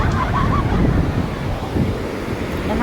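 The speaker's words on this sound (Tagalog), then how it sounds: "Yan ang alon." Ocean surf at Bagasbas beach, a continuous wash of breaking waves mixed with wind noise, loud and steady throughout.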